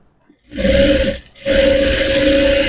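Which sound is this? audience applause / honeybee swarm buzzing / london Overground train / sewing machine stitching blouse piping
sewing machine stitching blouse piping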